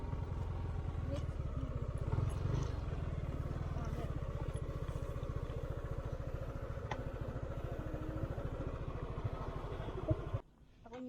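A motorcycle rides along a muddy road near Minalabac, Camarines Sur, its engine chugging in a steady rapid pulse, close and continuous, before cutting out abruptly at the very end.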